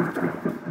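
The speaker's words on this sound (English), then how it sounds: "A little thunder there." Thunder rumbles through a storm in Louisiana, a steady low roll that stays loud for its whole short stretch and has no voices over it.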